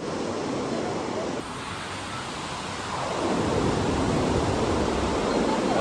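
Strong river current at Wawa Dam in Rodriguez, Rizal, a constant broadband rushing roar like water tumbling, steady and loud, with a brief dip before swelling fuller, while people talk nearby.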